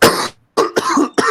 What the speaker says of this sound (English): I coughed so hard he died.